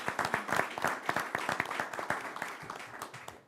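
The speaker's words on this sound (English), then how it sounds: "I think it deserves another big round of applause for both of our faculty members" An advisory board meeting audience gives a round of applause for two honored faculty members, a crisp, busy patter of many hands clapping, moderately close, thinning slightly toward the end.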